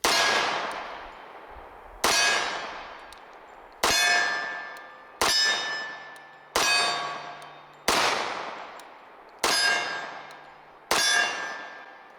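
Eight sharp metallic clangs of .45 pistol rounds from a SIG Sauer P220 Legion striking a steel target, spaced about a second and a half apart, each ringing out and decaying before the next, with no talk.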